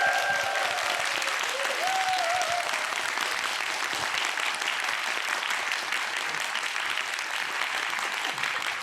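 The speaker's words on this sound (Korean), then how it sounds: "첫 무대를 만들어주신 유승환 감독님께 다시 한번 큰 박수 부탁드립니다" A live talk-show audience gives the film director a long, thick round of applause from many hands that holds at a steady level throughout, with a brief tonal sound near the start.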